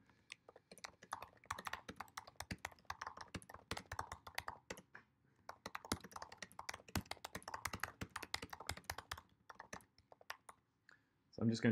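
Typing on a computer keyboard, rapid irregular clicking keystrokes in bursts with short pauses, close and fairly quiet, ending with a louder thump.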